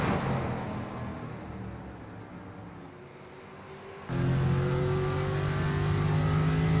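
Short track race cars on a winter preseason tour race at Richmond, their engines droning steadily at middle distance, then a louder, nearer engine note swelling in and holding.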